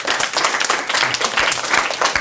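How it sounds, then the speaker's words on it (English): An audience at a children's reading event gives a steady round of applause, with dense clapping at moderate level and no talking over it. "Give Quincy Miller a warm round of applause"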